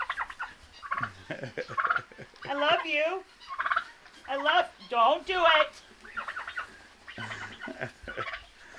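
A turkey gobbles and chirps in short warbling bursts, close by, while people talk intermittently between the calls.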